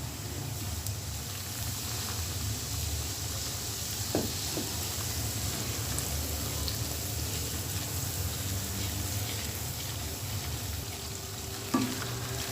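Semolina (suji) frying in ghee over low-medium heat gives a soft, steady sizzle and crackle, with a couple of faint stirring clicks. It is fairly quiet and sounds on its own, with no talk.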